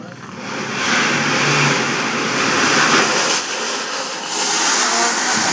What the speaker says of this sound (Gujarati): હવે જોઈ લો આપણે બાઇક લઈ લીધું છે અને બાઇક લઈને આપણે જઈએ